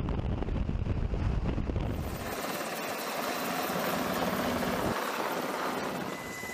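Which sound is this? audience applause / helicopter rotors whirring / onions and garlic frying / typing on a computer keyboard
helicopter rotors whirring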